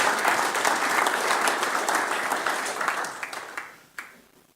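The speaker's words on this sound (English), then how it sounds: "So if we could have a round of applause," An audience breaks into sustained, dense applause for a priest's talk, loud and steady before tapering off toward the end with a few last claps.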